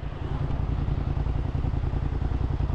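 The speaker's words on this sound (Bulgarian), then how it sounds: "Много суров мотор." Motorcycle engine running steadily up close, a dense low rumble with rapid mechanical clatter, loud and unbroken throughout; the bike is leaking antifreeze.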